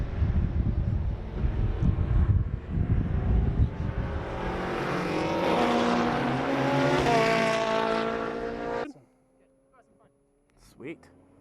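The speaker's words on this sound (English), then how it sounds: "Check a couple of these cars rolling by as we get set up." Race cars roll past on the track at Ridge Motorsports Park, a loud, sustained engine rush with wind buffeting that builds and then drops away abruptly, followed by quiet with faint voices.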